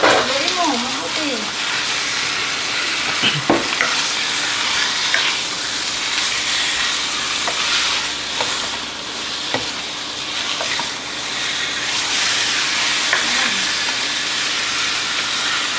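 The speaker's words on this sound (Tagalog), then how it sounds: "Haluin mo, mabuti" Adobo frying in a pan while it is stirred, a loud continuous sizzle with intermittent spatula scrapes and clacks, voices talking briefly over it near the start.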